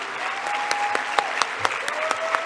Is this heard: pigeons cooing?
no